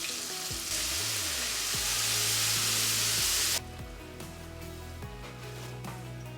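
Whitebait fish frying in a hot pan of oil, a loud steady sizzle that drops in level partway through, with occasional clinks and stirring movements and no talking.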